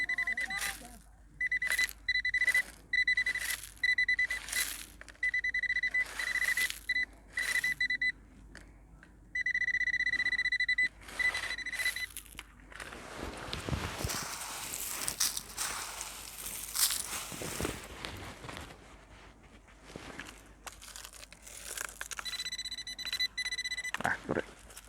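A Nokta Makro Simplex metal detector with an SP 24 coil swept over wet beach sand sounds repeated sharp, tonal beeps in short bursts, between stretches of scraping, digging noise, close by.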